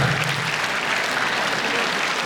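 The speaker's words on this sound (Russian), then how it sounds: "Ваши аплодисменты, друзья!" Dense, sustained audience applause fills a concert hall for a singer at a youth ensemble's 50th anniversary concert, a steady wash of many hands clapping with no talk.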